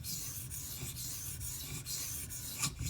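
A knife blade scrapes across a Sigma whetstone in a quiet series of rasping strokes. The passes come about every half second, soft and close, with no talking.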